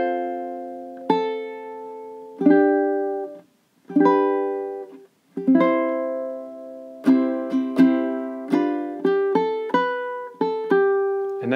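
Ukulele playing a four-bar passage from a song, a run of strummed chords with ringing harmonics, moderate rhythm, a brief pause midway, then quicker repeated strums, close and clear with no voices.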